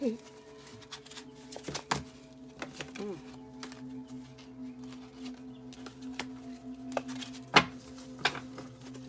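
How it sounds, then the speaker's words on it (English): Cards being shuffled in quick riffling bursts and snaps, over a steady low electronic hum. "I want to shuffle in camera so y'all can see."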